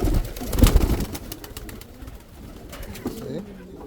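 Pigeons coo softly inside a coop, a few low murmuring calls with a louder burst near the start, under faint rustling and background noise.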